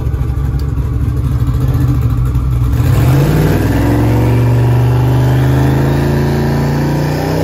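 An LS-swapped Chevrolet Blazer sits on its trans brake in first gear and builds boost. The engine idles loudly and roughly, then rises into a strong, rising rev and holds at a heavy drone.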